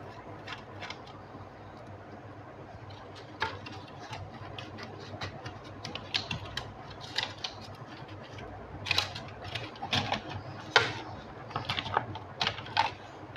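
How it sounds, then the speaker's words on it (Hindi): Small screws being worked loose with a screwdriver on an HP ProBook 450 laptop during repair, producing scattered light clicks and ticks of metal on plastic, close and irregular. "तो स्क्रूज बड़े अलग अलग हैं, बार बार स्क्रू ड्राइवर चेंज करना पड़ रहा है मुझे।"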